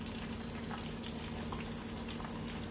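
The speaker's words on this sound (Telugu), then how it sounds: "ఇప్పుడు మనము ఆనియన్ ని గోల్డ్ కలర్ వచ్చేదాకా ఫ్రై చేసుకోవాలి." Onions frying in hot oil for paneer biryani, a steady, dense sizzle and crackle that holds evenly without breaks and stays fairly loud.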